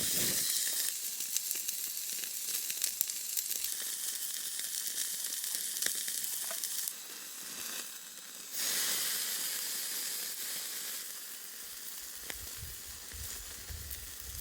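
Steady, loud sizzle and hiss of a New York steak frying on a camp grill plate outdoors, continuous for the whole stretch with a brief dip partway through and no talking.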